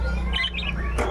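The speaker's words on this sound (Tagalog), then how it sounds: "Kaya po yung mga ibon sa loob." Caged birds, kept as a set of ten with pairing boxes, chirp in a short burst of bright tweets over a steady low background hum.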